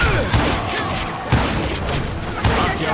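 Rifle fire in Call of Juarez Gunslinger, loud repeated shots roughly a second apart over a dense bed of distant gunfire and battle noise.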